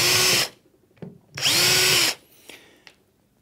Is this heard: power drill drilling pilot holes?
yes